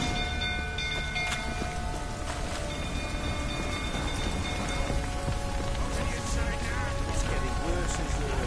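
Steady rain hisses across the whole stretch in the Witcher 3 near a burning stable, a dense wash of noise with tonal game sounds and brief voices layered over it.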